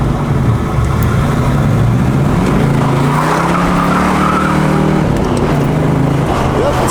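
A 1979 Pontiac Trans Am with a Ram Air 3 cam spins its tires on a posi rear end, a loud steady roar of engine and squealing rubber held for several seconds close by.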